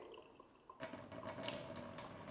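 Boiling water poured out during a blindfolded sound-guessing test in a kitchen being finished, starting after a short quiet lead-in as a steady, close hissing, bubbling splash that runs on to the end.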